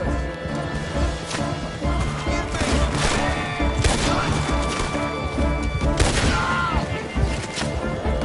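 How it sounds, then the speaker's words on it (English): In Red Dead Redemption II, around Saint Denis, loud gunfire crackles in rapid volleys amid crashing impacts and a booming explosion, dense and continuous over a rumbling game soundtrack. "That explosion came just in time."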